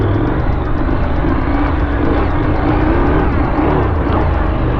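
KTM 890 Adventure R motorcycle ridden on a motocross track in Norway, a loud continuous engine roar with wind buffeting, close and unbroken throughout.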